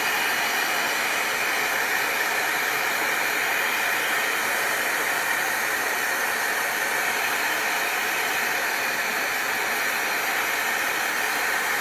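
Hair dryer drying paint on a spring-themed round door sign, a loud steady blowing hiss with a whining motor running without pause for the whole stretch, no talking.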